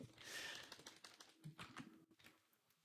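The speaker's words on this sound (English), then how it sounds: "I wish I could type with just one hand." Quick, light taps on a computer keyboard come in a short, uneven burst, close and fairly quiet, with no talking.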